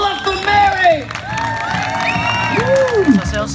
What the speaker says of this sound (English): Ladies and gentlemen, one more time, big round of applause. Holla for Mary!